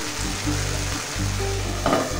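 Taro greens cooking in a pan with fried hilsa fish tail pieces laid on top, giving a steady close sizzle with a low, even hum of frying and a brief scrape of stirring near the end.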